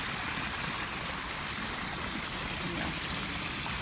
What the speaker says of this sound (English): I don't know if you're gonna be able to hear me with the waterfall.